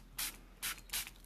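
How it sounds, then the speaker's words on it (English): Coloured ink spray is misted onto card for a Stampin' Up papercraft project, three quick hissing pumps from a spray bottle, evenly spaced, close and crisp against a quiet room. "And I'm just going to spray again."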